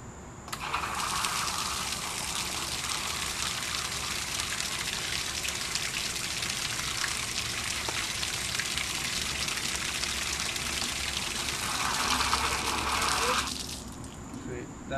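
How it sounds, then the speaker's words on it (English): Water rushes out in a steady, loud gush for several seconds, starting and then cutting off abruptly. "demo one is basically having both water valves open for a certain time interval"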